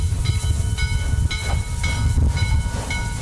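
Steam locomotive 1309 on the Western Maryland Scenic Railroad, under steam for the first time in 64 years, gives loud rhythmic chuffs with hissing steam and heavy rumbling running gear, close by and without talk.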